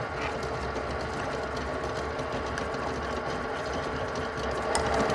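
Stand mixer working almond shortcrust pastry dough, a steady close whirring and rattling mechanical drone with gear-like clicking that holds at an even level throughout, with no voices.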